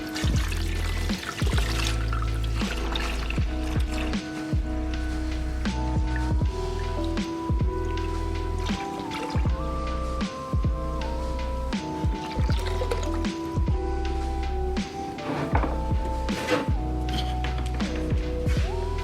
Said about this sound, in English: do my best to get all of it submerged within the solution